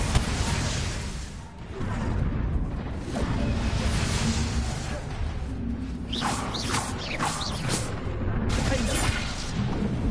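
A Bombarda blasting spell in Hogwarts Legacy goes off among dense, continuous game noise, with booming and crashing bursts and whooshing sweeps layered over a constant rumble.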